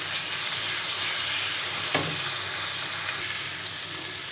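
Onion and garlic sautéing in a hot pan, giving a steady, dense sizzle with light stirring scrapes, close and continuous throughout with no voices.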